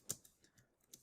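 A few sparse keystrokes on a computer keyboard, quiet, close and isolated clicks spread across about a second, with no talk.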